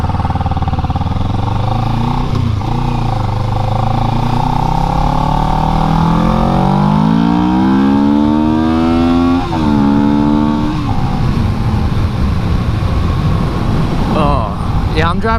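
A motorcycle is ridden hard, its engine revving and climbing in pitch as it accelerates through gears. Heavy wind rush stays loud and constant throughout, and the engine drone eases off near the end.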